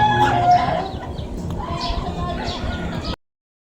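Chickens cluck and squawk close by in a short, busy burst, with faint rustling and farmyard noise before it cuts off.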